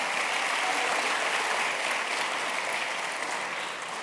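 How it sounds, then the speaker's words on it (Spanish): Audience applause at a youth ministry event, a steady dense wash of clapping from a large group, moderately loud and sustained throughout without voices. "Bueno, un aplauso a todos."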